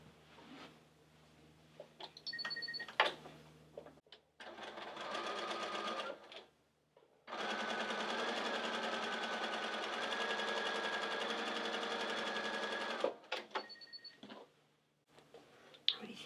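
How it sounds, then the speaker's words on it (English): A sewing machine stitches fabric pieces for a star quilt pattern: two steady runs of whirring, motorized buzz, the second longer, separated by brief pauses with light handling clicks. "I'm going to turn it over and sew from this side"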